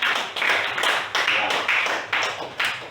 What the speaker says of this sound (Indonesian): mari kita memberikan aplaus kepada kelompok 3